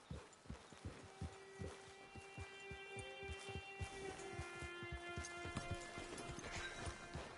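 Horse hooves clip-clop at a steady walking rhythm in Red Dead Redemption Online, close and clear over a soft ambient music bed and occasional whinny-like tones, with no talking.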